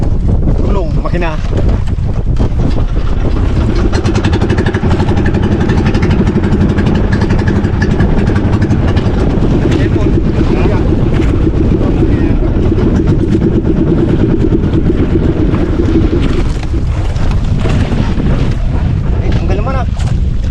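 A fishing boat's engine runs at sea, a loud, steady mechanical drone with heavy wind noise across the microphone, while people shout and talk over it for the full stretch.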